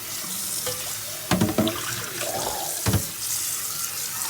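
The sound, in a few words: water running from tap while rinsing silver plate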